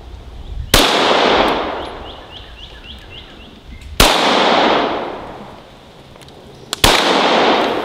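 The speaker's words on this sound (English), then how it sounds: "This is probably the most comfortable 9mm that I've ever fired." Three loud, close Smith & Wesson M&P Pro Series C.O.R.E. 9mm pistol shots, spaced a few seconds apart, each a sharp crack with a ringing decay.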